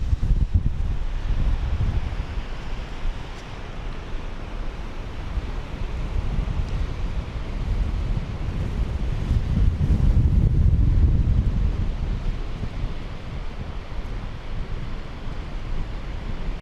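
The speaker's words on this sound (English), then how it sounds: "it's pretty windy" Steady wind in Nebraska buffets the microphone with a deep, continuous rumble, growing stronger toward the middle before easing slightly.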